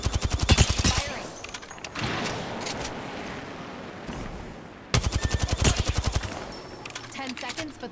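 Automatic weapon fire in the video game Apex Legends, two loud rapid bursts of rattling shots separated by a few seconds of quieter background game noise.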